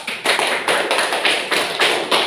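Applause for a student group in a classroom, heard as a loud, close series of about seven rhythmic claps or taps in unison with no voices.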